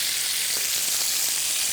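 Steak searing in hot oil in a pan gives a steady, close, bright sizzle that holds evenly throughout, with no talking.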